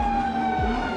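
Police car sirens wail loudly as the cars arrive during a crackdown on motorcycle gangs in Japan, a steady high siren tone with a brief rising sweep and road noise beneath, no talking.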